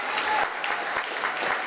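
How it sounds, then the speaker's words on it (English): An audience at an event honouring an environmental defender applauds, a dense, steady burst of many hands clapping close by, continuing without a break. "let's give our friends a round of applause"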